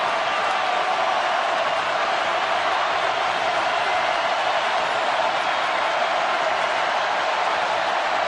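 Stadium crowd roaring at a college football game between Arkansas and #18 Ole Miss in 2015, a dense, constant wash of cheering and noise that holds at full volume throughout without any break.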